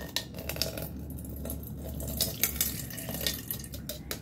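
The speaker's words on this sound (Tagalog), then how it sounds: "Ito yung tubig, ibubos natin siya dyan." Water poured into a stainless steel oil pot strainer, a continuous splashing stream with metallic clinks and taps from the pot, close up and fairly quiet.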